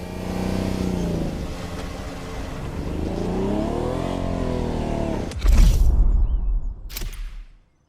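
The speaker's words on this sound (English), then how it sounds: "The car you're about to drive in this opening event is none other than the first Ferrari in the supercar bloodline, the Ferrari GTO." In the video game Motorfest, a Ferrari GTO engine revs and climbs through the gears with rising and falling pitch, then a loud whooshing burst hits before the sound cuts off abruptly.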